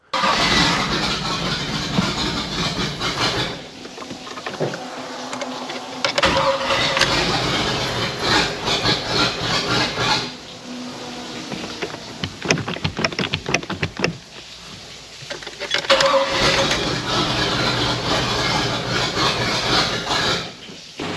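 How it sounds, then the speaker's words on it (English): A boat's 5.7-litre OMC Cobra inboard engine cranks and catches, then runs with a steady mid-pitched rumble, with brief pauses and restarts; no speech heard. "fire up the engine, get it up to operating temperature"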